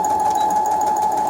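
A sewing machine running fast while stitching a fabric face mask, a loud, steady motor whir with a rapid needle chatter, unbroken and close.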